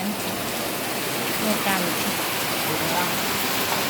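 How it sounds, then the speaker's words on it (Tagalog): Heavy rain pours steadily at night, a dense continuous hiss with a voice speaking briefly over it. "Ang lakas na naman ng ulan."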